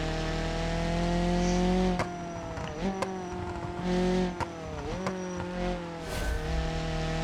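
A race car engine in the video game BeamNG.drive drones steadily, broken by sharp pops and bangs as it shifts and lets off the throttle.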